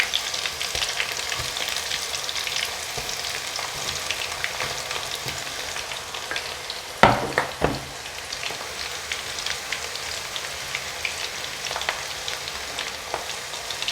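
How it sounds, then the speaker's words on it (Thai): Chili peppers coated in batter deep frying in hot oil give a steady, dense sizzle and crackle throughout, with one brief louder bubbling burst midway; no voices. "จะทอดไปจนกว่าจะเหลือง แป้งเหลืองสวยจ้ะกรอบจ้ะทอดไป"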